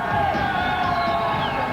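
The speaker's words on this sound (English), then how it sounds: "In the yard, the prisoners let out another deafening cheer." Crowd of prisoners cheering and shouting in a prison yard in the Mediterranean hills during a helicopter escape, a steady loud roar of many voices with whoops rising over it throughout.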